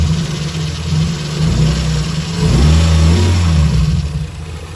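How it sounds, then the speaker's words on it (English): A Lexus IS300 engine, freshly maintained, runs loud and close, rising through two smooth revs over a steady idle-like drone with no talking. "this thing's running so good, so responsive. The engine's just so smooth"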